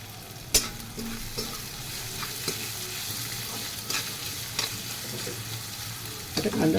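Two large finely chopped onions fry in a pan. Soft, steady sizzling is broken by sharp scrapes and clicks of stirring, with a louder burst of frying near the end.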